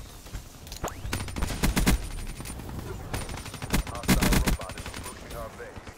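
Video game gunfire crackles in quick bursts of rapid shots, loud and close, mixed with game effects across a few seconds.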